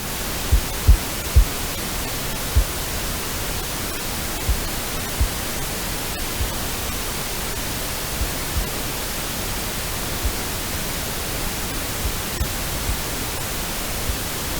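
A loud, continuous wash of pink noise, dense and hissy, holding steady for several seconds with a few faint low thumps.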